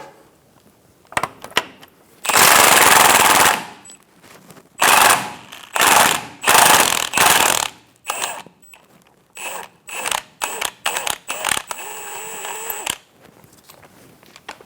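A wrench spins the back nut off a differential mounting bracket on a 2014-2018 Chevrolet Silverado 1500: loud, close mechanical bursts, first one long whir, then a string of shorter rattling pulses and quick clicks, with no voices.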